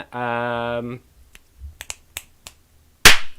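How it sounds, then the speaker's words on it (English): Several sharp finger snaps, irregular and close, between a sustained sung or hummed tone at the start and a loud clap near the end, during a podcast bit. "Snap and clap"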